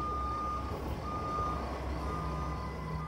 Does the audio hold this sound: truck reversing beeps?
yes